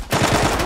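Rapid burst of automatic gunfire in the online shooter Zula, loud and close, a quick rattle of shots lasting under a second.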